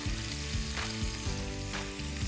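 Stuffing for stuffed batti sautés in a pan with a steady, soft sizzle and frying hiss, faint and continuous with occasional stirring scrapes, no talk.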